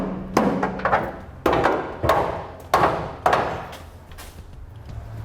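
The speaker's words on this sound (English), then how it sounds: "May need to tap it with a hammer and a screwdriver." A hammer driving a screwdriver against a plastic ring spacer on a B&W Companion sliding fifth wheel hitch, five or six sharp knocks at uneven intervals, each ringing briefly, close by with no talk.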